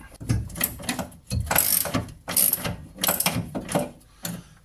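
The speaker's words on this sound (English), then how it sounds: "I'm using a 17mm spanner and socket." A 17mm socket ratchet and spanner work on leaf spring bolts of a Reliant Kitten, giving repeated bursts of close clicking ratchet strokes with short pauses between them.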